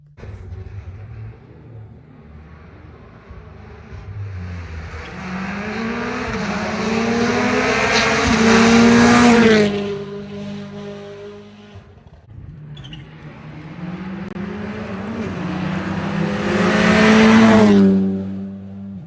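WRC rally cars race along a special stage in Monaco: two cars in turn build up with rising engine roar, pass close and loud with high revving, then fade into the distance.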